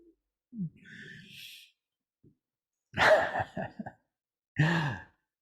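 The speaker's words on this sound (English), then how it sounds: "You've got a dog snoring over there again." A dog sleeps soundly indoors and snores in slow, separate breaths. There are three or four soft, close, wheezy snorts with quiet pauses between them.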